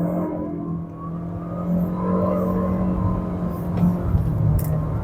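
A 2025 Omoda C5 Luxury turbocharged crossover pulls away from a standstill, its steady engine drone and road hum rising gently as it gains speed, heard from inside the cabin without any talk.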